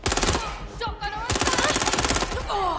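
Rapid shotgun and automatic gunfire in the video game Watch Dogs: Legion, dense rhythmic bursts of loud shots with a short pause in the middle, joined by brief game sounds.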